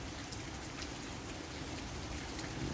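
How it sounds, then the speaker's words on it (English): Steady rain falls around an old porch surrounded by trees, a soft, even hiss of drops with no break, quiet and continuous with no voices. "Listening to the rain."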